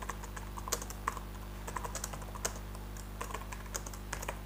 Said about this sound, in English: Here I am simply typing,